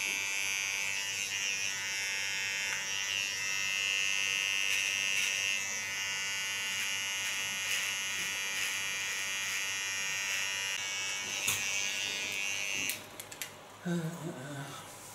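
An electric hair trimmer buzzes steadily and close while cleaning up the contour line of a haircut, a continuous high whine that stops near the end, followed by light handling noises.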